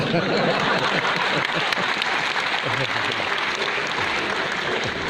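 Audience applause at a live comedy show in Ravindra Bhawan, Bhopal, a sustained wash of many people clapping that stays loud and even throughout, with a murmur of voices mixed in.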